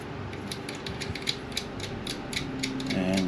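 A ratcheting wrench loosening the battery terminal bolts on a Honda Goldwing motorcycle, rapid clicking pawl ratchets in short bursts with a few sharper metallic knocks, close up and with no voices.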